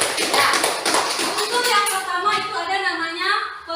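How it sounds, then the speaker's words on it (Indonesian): A classroom bursts into applause for a student, dense clapping from many hands that thins and fades toward the end, with a voice starting to speak as it dies away. "tepuk tangan untuk Suci"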